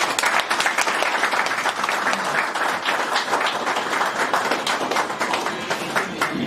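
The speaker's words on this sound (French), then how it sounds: "Je vous prie de l'applaudir très fort" A dinner audience at a UDPS Canada gathering breaks into loud, enthusiastic applause, with dense overlapping claps from a sizeable crowd rolling steadily from start to finish.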